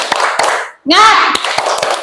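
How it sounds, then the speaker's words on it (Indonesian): Schoolchildren in an Indonesian classroom doing a rhythmic spirit clap, sharp unison hand claps in a patterned beat, broken by a brief pause and a burst of children's voices calling out together. "mari kita tepuk semangat dahulu agar kita semakin bersemangat ya"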